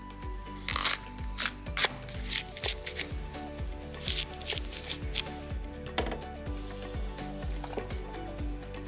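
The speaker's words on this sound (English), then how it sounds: "I'm gonna grab my fennel, cut that into wedges, and add those into the tray as well." Knife slicing fennel into wedges on a board while cooking, a steady series of short crisp cuts repeating at an even pace, close and moderately loud with no talking.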